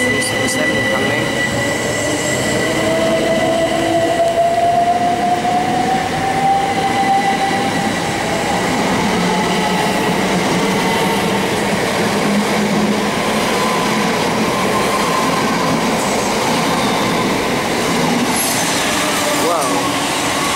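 A Southern Class 377 Electrostar electric train rumbles past close by at Hassocks Station, a steady loud roar with a rising whine and faint wheel squeal, a voice murmuring briefly underneath.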